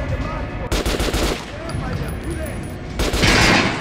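Rapid bursts of gunfire hit an armored target dummy in Metro Redux, a dense close volley of shots with a voice talking partway through.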